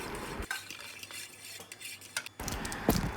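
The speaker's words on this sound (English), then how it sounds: "I am adding the condensed milk to it and mixing it well." A spoon stirs a condensed milk mixture for coffee chocolate mousse in a bowl, scraping and clinking in short, uneven bursts close by, with a louder flurry near the end.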